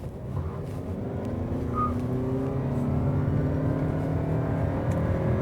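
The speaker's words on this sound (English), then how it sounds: "You're going to hear the typical sort of whine of the CVT in the motor." A Toyota Prius Prime accelerates at full throttle, its CVT and electric motor giving a steady, rising whine over a low engine hum that grows gradually louder, heard from inside the cabin with no talking.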